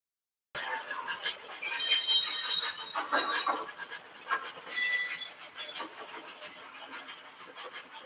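A freight train carrying a Vision Line boxcar rolls past, a steady metallic rumble with squealing wheels and intermittent clanks, moderately loud and continuous after a sudden start.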